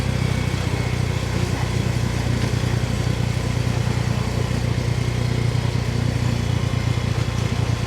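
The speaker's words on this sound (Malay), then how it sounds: "Jadi kita naik motor, sewa motor." A rented motorcycle's engine drones steadily while riding on an island road, a continuous close mid-pitched hum with wind noise and no pauses.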